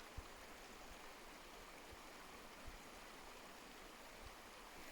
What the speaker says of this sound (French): avec le petit bruit du torrent ou du ruisseau là